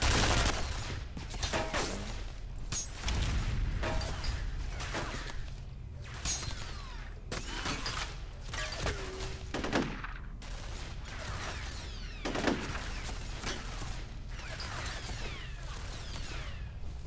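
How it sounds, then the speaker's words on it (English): Automatic defensive turret gunfire in the shooter game F.E.A.R., a sustained clatter of rapid shots with sharp crashes and whooshes, loud and continuous throughout with no talk over it. "Automatic defensive measures are active in this area. Unauthorized personnel will be shot on sight."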